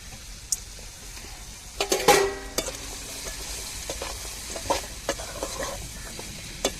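Bitter gourd pieces tossed with chillies in a hot pan, a low sizzle broken by several clattering scrapes and taps of a spoon, close and without talk.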